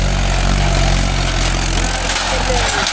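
Mahindra 575 DI tractor engine running steadily close by, a loud, continuous low rumble with a constant throb and no pauses.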